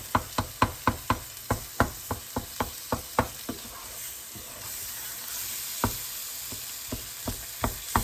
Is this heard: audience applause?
no